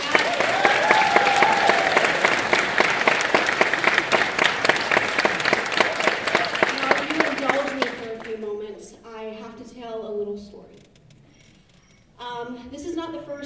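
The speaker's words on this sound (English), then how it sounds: "Can we get a round of applause on that?" Loud, sustained applause from a theater audience after a taiko drum performance at the Perkinson Center in Chester, Virginia, filling about eight seconds before fading, followed by someone speaking over quieter room sound.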